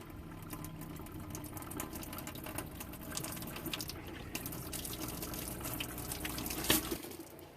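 Water sputters and hisses from an RV faucet as trapped air is purged from the lines, a steady rough rushing stream with spitting bursts that swells near the end before cutting off.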